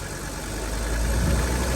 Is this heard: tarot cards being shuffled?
no